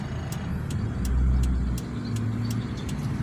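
A 2004 Hyundai Atos running high idle RPM with a suspect radiator on a test drive through busy streets, a steady close engine drone inside the car with the engine note swelling and settling, plus faint ticking clicks.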